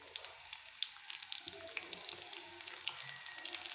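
Finely chopped onions fry in hot oil as the first step of an Assamese fish curry, a steady close sizzle with crackles and pops throughout.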